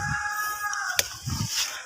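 Native chickens on a farm cluck and call close by, with low murmuring bursts and a sharp click midway, no talking.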